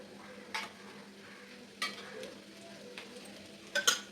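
Vegetables being stirred in hot oil in a pan after chilli powder goes in, a soft steady sizzle broken by a few sharp scrapes and clinks of a spoon against the pan, spaced out and fairly quiet.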